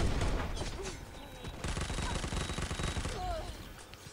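Rapid automatic gunfire bursts in an online multiplayer shooter game, loud and close, with layered shots and game effects rattling continuously over a few seconds.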